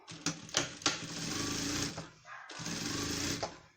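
Sewing machine stitching a fabric seam with a zipper on a small owl-shaped cosmetic pouch, running in steady bursts with brief pauses and a stop midway, close and alone.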